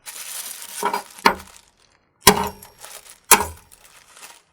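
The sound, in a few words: hammer smashing glass bottle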